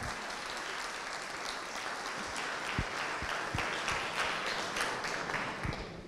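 Audience at an agricultural education seminar gives sustained applause, a dense, even wash of many hands clapping throughout, moderately faint and heard alone.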